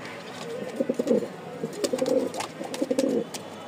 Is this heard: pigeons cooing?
yes